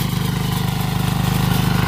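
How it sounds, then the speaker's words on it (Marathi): A 5 HP Agrineer diesel power weeder engine runs up close in a brinjal field, a loud, steady, rapid thumping chug throughout the short stretch. "आंतरमशागतीचा किंग मानलं जाणारं हे ॲग्रीनीर कंपनीचं 5 HPचं पॉवर विडर डिझेल मॉडेलमध्ये"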